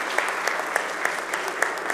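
An audience at a formal solemn session in Alagoas applauds steadily, a dense, sustained clapping broken by a few louder, regularly spaced claps near the front, with no speech over it.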